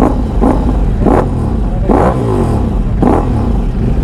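A Ducati Multistrada V4 motorcycle engine with its catalytic converter removed revs up and down in several repeated throttle bursts, loud, close and steady with no talking.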